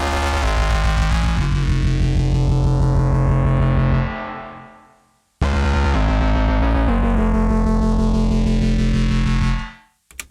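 A distorted synth sound run through a short convolution reverb whose tail is pulled up, swelling into a sweeping, smeared wash that fades out, then repeats a second time before cutting off.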